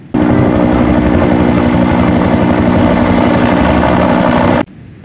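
A toy helicopter gives a steady mechanical whir with a buzzing rotor hum, loud and unbroken for several seconds, then cuts off abruptly.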